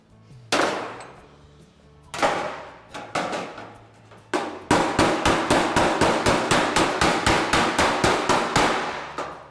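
Red-hot metal is struck with a hammer, beginning with a few spaced, ringing blows and then settling into a steady, fast run of loud metallic strikes. The hits are close and there is no talk.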